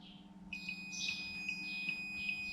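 A multimeter's continuity beep sounds as probes touch, a steady high-pitched electronic tone that holds for about two seconds, fairly quiet and alone, during electrical checks on a non-running R53 Mini.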